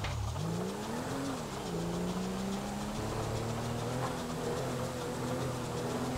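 Car engine driving in Grand Theft Auto V, a steady loud hum with pitch rising and shifting as the vehicle accelerates and changes gear, continuous throughout.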